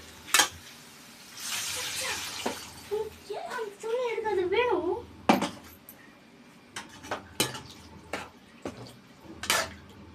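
Water sloshes as a tomato-stained mixer jar is rinsed and poured into a cooking pot of tomato-tamarind gravy for dried fish curry, with clinks of utensils and metal knocks around it, a person talking through part of it.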